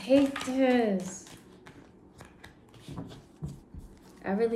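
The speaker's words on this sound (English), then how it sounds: "I really hate shuffling new decks." Soft papery riffling and tapping of a new deck of tarot cards being shuffled in short bursts, with someone speaking at the start and end.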